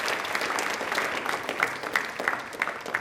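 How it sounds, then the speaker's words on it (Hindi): Sustained applause from a large audience at a televised Rajasthan quiz show, steady dense clapping with a few sharper peaks throughout, no talking over it. "इसके लिए तालियां इनके लिए जोरों से बजा दीजिए प्लीज।"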